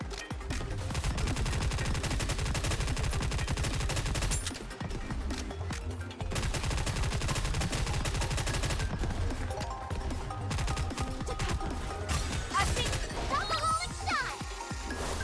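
Sustained gunfire in combat from the video game Nikke, dense rapid shots layered with game music and effects, loud throughout with brief pauses.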